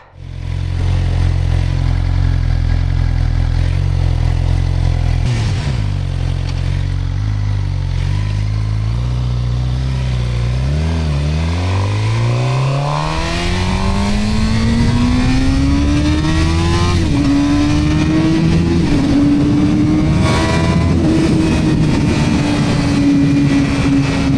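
Suzuki GSX-R600 sport bike on a ride, its exhaust idling in a low steady burble before revving and climbing in pitch as it accelerates, loud and close with rushing wind, no talking.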